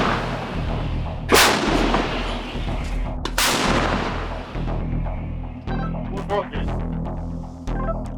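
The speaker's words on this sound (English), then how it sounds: "One after the other, the shells head downrange at Russian infantry groups spotted creeping through a tree line." Artillery shells fired downrange at Russian infantry in a tree line during the war in Ukraine, two heavy booming blasts a couple of seconds apart over a constant low rumble, followed by fainter thuds and clanks.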